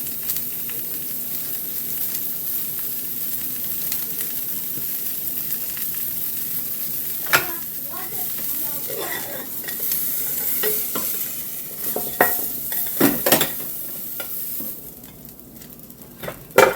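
Bacon frying in a pan, a steady sizzle and hiss with intermittent utensil stirring and scraping clatter toward the end, close and alone without talk.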